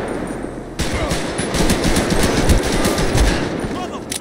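Sustained rapid gunfire in a Grand Theft Auto game, dense overlapping shots close and loud, with people talking over it.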